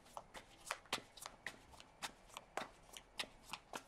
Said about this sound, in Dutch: Dus aan de kaarten schudden om te kijken wat deze week voor de steenbok gaat brengen.